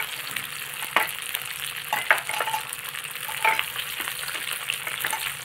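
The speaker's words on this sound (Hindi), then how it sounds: "तो हम सबसे पहले इसमें ये ग्रीन चिली और कटे हुए टमाटर डालेंगे।" Green chilies and chopped tomatoes frying with peas for an aloo gobhi matar sabzi, a steady close sizzle broken by a handful of sharp spatula scrapes and taps against the pan at uneven intervals, no talking.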